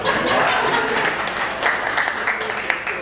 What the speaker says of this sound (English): I love getting applause.